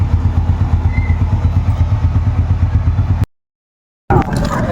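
Motorcycle engine running nearby while riding, a loud steady throb with rhythmic pulsing and rattling; the sound cuts out briefly to silence and then resumes.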